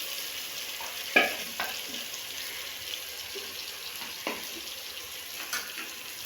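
Masala with peas and mashed tomatoes fries in a pan, a soft, steady sizzle broken by several scraping stirs and clinks of a spoon, close and moderately quiet, with no talking.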